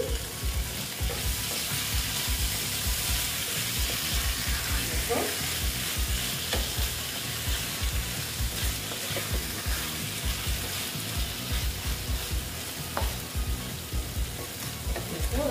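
Chhana and pointed gourd sauté in a pan for a vegetarian dish, giving a steady, close sizzle broken by repeated scraping and clattering stirs throughout.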